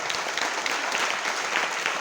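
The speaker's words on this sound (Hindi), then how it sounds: "ताली बजा लीजिए" An audience at a business seminar in Agra claps steadily and evenly, a dense wash of hands filling the whole stretch with no pause and no voices over it.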